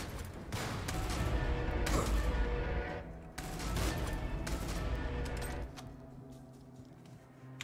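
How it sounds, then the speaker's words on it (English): Assault rifle firing in the sci-fi shooter Jupiter Hell, two long sustained bursts of rapid gunfire separated by a short pause, loud and continuous before fading out. "Switch back to the assault rifle."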